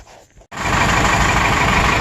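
A 1996 Vermeer SC1102 stump grinder engine with a misfire and blow-by cranks briefly, then catches and roars at a loud, steady, broadband run that holds close-up to the end.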